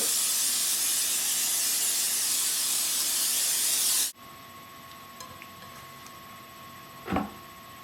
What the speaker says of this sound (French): Je vais asperger mon plat avec de l'huile pour ne pas que ça colle.